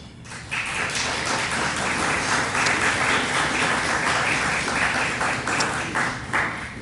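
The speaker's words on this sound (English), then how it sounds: "if you would refrain from clapping" At a Board of Education meeting, the audience claps steadily for several seconds, a dense, even patter of many hands that stays loud throughout before tapering slightly at the end.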